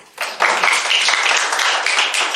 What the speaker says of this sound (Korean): 이거 박수 한번 치줘야 돼.